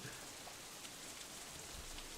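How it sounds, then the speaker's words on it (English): Rain in the visual novel game Katawa Shoujo hisses in a steady, soft wash of falling drops, faint and even with no voices over it. "it starts to rain again"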